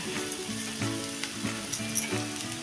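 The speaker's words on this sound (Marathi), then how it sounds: "आणि चांगली मऊ होईपर्यंत ही खिचडी आपण अशी परतून घेऊया" Sabudana khichdi with chilli powder and boiled potato sizzles steadily as it is sautéed in a pan, with soft repeated stirring scrapes and a close, continuous frying hiss.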